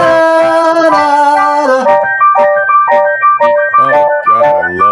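A Casio SK-1 sampling keyboard plays a bright, thin melody with chiming, slightly buzzy tones, moving through quick repeated notes and short phrases, loud and alone.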